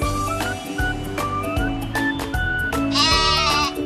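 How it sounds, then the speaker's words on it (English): A goat bleats in repeated wavering calls over a busy, loud background of music or other animal sounds, part of a children's farm-animal learning sequence. "Goat."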